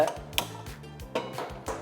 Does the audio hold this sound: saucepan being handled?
yes